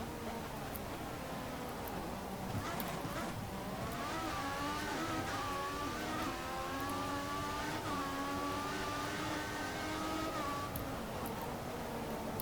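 A Formula 1 race car engine in the F1 2014 PC video game screams continuously at high revs, its pitch climbing and dipping through gear changes, loud and steady without any talk.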